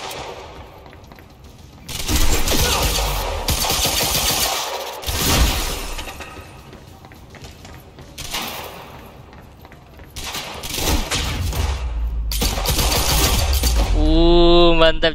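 Pistol fire in the video game Quantum Break, loud repeated bursts of shots with sharp impacts and shattering debris across the clip, ending in a tonal game sound.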